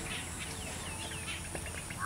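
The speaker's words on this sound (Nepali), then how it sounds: "अहिले कुखुरा छन् खोरमा" Broiler chickens cluck and chirp faintly in a coop on a poultry farm, softly scattered over a steady background hum.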